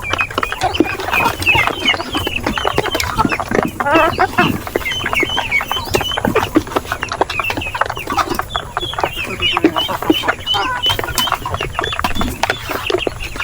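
Heritage chickens on a farm cluck and chatter in a busy, overlapping flock, with rapid scratchy calls and occasional rooster-like cries close by, continuing steadily while someone talks at times.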